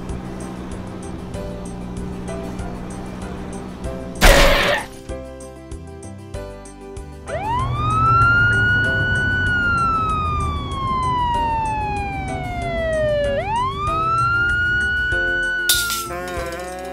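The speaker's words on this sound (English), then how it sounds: "Police car." A police siren wails in long rising and falling sweeps, loud and close, with brief bursts of noise at the start and end.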